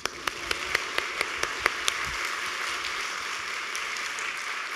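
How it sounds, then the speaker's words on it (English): A few sharp, distinct claps ring out at the 2019 Golden Goose Award ceremony, then thin into a soft, even patter of audience applause for award presenters that holds steady to the end. "you can applaud them"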